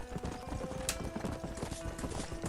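Horse hooves clip-clop at a steady trot in the Western video game Red Dead Redemption, a continuous close rhythmic patter on dirt with a brief whinny-like accent partway through.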